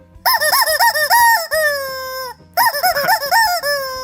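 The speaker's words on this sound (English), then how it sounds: "Got a rubber chicken." Rubber chicken toy squeezed twice, each a loud, close, warbling squawk lasting over a second with a short gap between, no voices.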